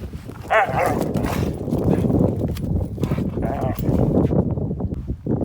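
Husky dogs bark and yelp a few times, mixed with people talking close by and some scattered background clatter.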